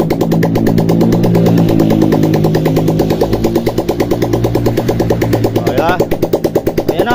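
A Kawasaki Barako 175cc V2 motorcycle engine with a replaced cylinder head runs at a steady idle, close and loud, its exhaust not yet fitted. Someone talks over it throughout.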